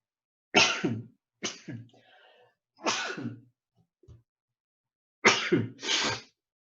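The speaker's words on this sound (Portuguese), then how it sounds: "Na gravação dessa live sai até os espirros." Several sharp sneezes during a live online class recording, in short separate bursts with a pause between groups, close and fairly loud in an otherwise quiet room.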